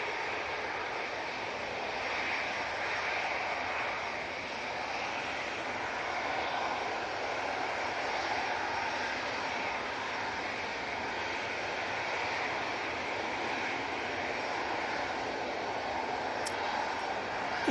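Airbus A320 of Eurowings, arriving from Hamburg, on final approach to land at Manchester Airport; a steady, loud jet roar holds throughout without a break.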